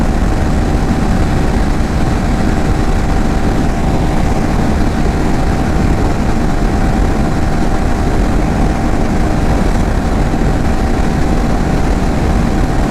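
A 2025 KTM Adventure 390 S motorcycle engine holds a loud, continuous drone at its 160 km/h top speed, with unbroken wind and road roar throughout.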